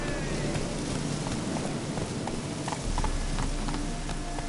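Horse hooves clip-clopping at a steady gallop in The Witcher 3, a continuous rhythmic drumming of hoofbeats over low background ambience, loud and close throughout.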